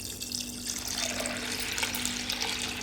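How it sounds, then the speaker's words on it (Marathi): Water from a tambya pours steadily onto half a kilo of washed lentils in a cooking pot, a continuous close splashing rush that runs without a break. "तर एक तांब्या मी पाणी घातलेलं आहे"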